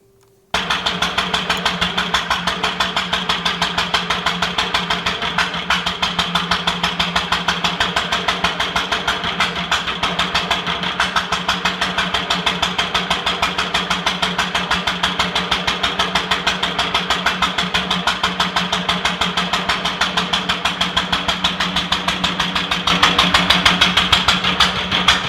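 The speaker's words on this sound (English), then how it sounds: "attempted to start the engine" A 1946 International Harvester LB stationary engine running after a garage restart: after a brief moment of quiet it fires and settles into a steady, loud, rapid chuffing idle with a fast, even rhythm that holds for about 25 seconds.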